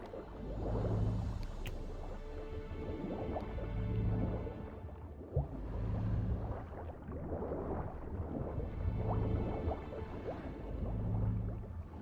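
Bathwater sloshing and dripping as a body moves in a tub in The Witcher 3, soft close splashes and gurgles rising in slow regular swells about every two seconds, alone without talk.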